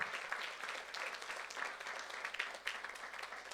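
Church youth congregation applauding during a sermon, a quiet, steady patter of many hands clapping from across the hall, with no talk over it.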